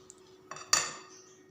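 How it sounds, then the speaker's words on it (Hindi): A spoon stirs semolina batter with milk in a bowl, making a couple of soft scrapes and then one sharper clink of metal against the bowl, faint and close. "तो चलिए इसे अच्छे से मिक्स करते हैं।"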